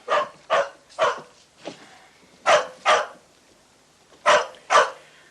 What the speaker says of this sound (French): il m'est impossible d'avoir une conversation avec vous tant que ce satané animal continuera d'aboyer